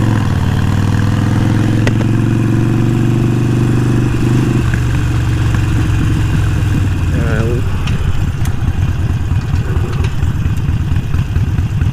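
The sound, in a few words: Harley-Davidson Sportster motorcycle sliding through an intersection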